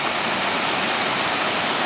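A big waterfall at Buckden roars as a loud, steady, broadband rush of falling water, close and constant with no other sounds.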